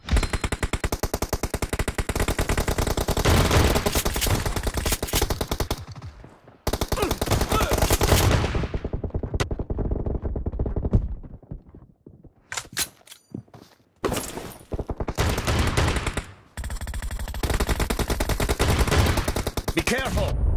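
Bursts of rapid automatic gunfire in a video game, loud and close, come in long sustained volleys separated by short gaps, with single shots and thuds in between.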